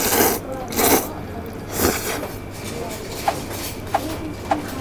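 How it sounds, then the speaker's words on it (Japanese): Ramen noodles and toppings are stirred together in a ceramic mortar bowl. Slow, rhythmic scraping and rubbing swells come at about one per second, and a few small, sharp clicks of utensil on bowl follow. "全部ね具材混ぜていきたいと思います"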